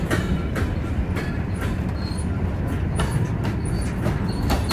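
Empty freight cars roll past in a rail yard with a steady rumble, rhythmic clickety-clack of wheels over joints and occasional faint squeals, continuous and close.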